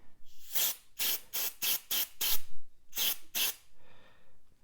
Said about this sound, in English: let me spray this and we'll see what happens